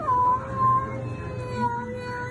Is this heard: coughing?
no